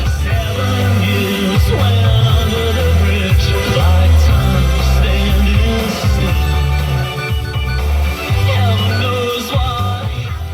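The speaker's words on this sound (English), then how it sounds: "the sound system in this car sounds great." Music plays loud and steady through an Eclipse head unit sound system in a 2007 Chevrolet Silverado K1500 pickup, with a strong deep bass line and full, clear mids and highs throughout.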